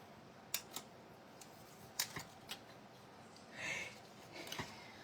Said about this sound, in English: Much quicker with my sprung scissors, I must say.